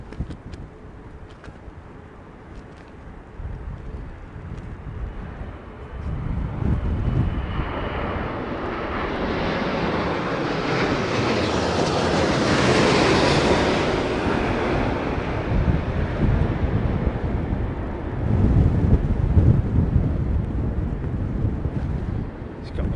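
An Aeromexico airliner comes in to land at Heathrow in Storm Darragh, a broad jet roar swelling over roughly ten seconds then easing, with heavy gusting wind buffeting the microphone throughout and no talk.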